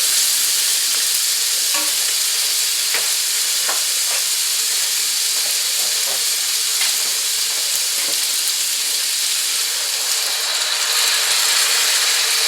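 Cottage pie filling sizzles loudly in a skillet after water is added, a steady dense hiss of frying and steam with scattered small pops and crackles, close and continuous.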